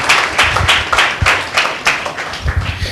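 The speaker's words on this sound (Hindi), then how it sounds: "चलिए एक जोरदार ताली देते हैं परमेश्वर के नाम की महिमा के लिए" Loud, rhythmic clapping from a church congregation at a Sunday meeting, steady beats in unison carrying through the whole stretch with no talk over it.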